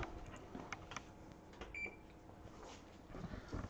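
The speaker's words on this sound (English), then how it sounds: "Timer's going off." An oven timer beeps briefly once in a kitchen during baking of soft pretzels, faint over low room noise.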